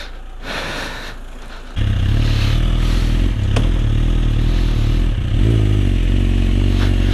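A crash-damaged motorcycle rides slowly along a road, its engine running in a low, steady rumble. A rattling, clattering noise sits over the hum, and the louder drone swells in after a quieter opening.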